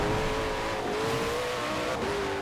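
A Koenigsegg One engine in Forza Horizon 4 holding a steady, sustained high drone as it accelerates on a wet winter road, loud and close, with no voices.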